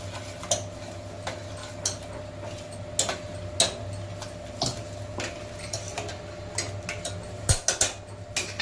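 Rice upma being slowly stirred in a pan with a spoon, giving a sparse series of light scraping ticks and clinks against the metal over a low steady hum, with no one talking.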